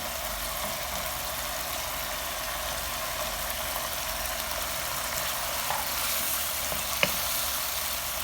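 Onions fry in a pan for restaurant-style chili chicken, a steady broad sizzle with a low hum underneath and one brief knock near the end.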